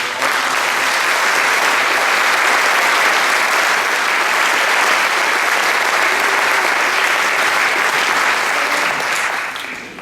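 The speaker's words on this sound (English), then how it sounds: "So can we give all of the students a big round of applause?" Audience at an honor band concert applauding students, a dense, steady wash of clapping that carries on evenly for about ten seconds before tapering at the end.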